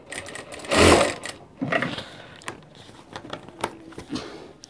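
A sewing machine stitches a sherwani, with a loud burst of running near the start followed by quieter, intermittent short runs and handling noises.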